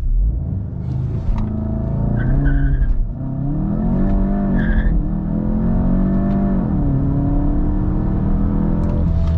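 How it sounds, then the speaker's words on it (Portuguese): A Volkswagen Golf GTI accelerates hard with manual gear changes. The loud, close engine note climbs, drops briefly at each of several shifts, then climbs again, with no talking. "a gente vai passar de marcha, em vez de deixar ir lá no 7 igual foi, trocar em 6"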